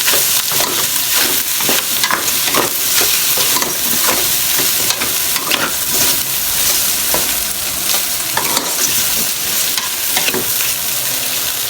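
Squid balls and chicken balls frying in a pan alongside chicken liver and gizzards for homemade lomi, loud continuous sizzling with repeated scraping stirs throughout.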